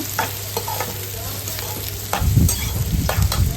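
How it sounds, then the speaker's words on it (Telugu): Chopped tomato pieces are stirred in a frying pan for an Andhra-style rajma curry: a steady sizzle with distinct spoon scrapes and knocks, growing louder and busier midway, no talking. "టమాటా ముక్కలను కూడా వేసుకొని దాన్ని కొంచెం మెత్తగా అయ్యే వరకు బాగా కలుపుకోవాలన్నమాట"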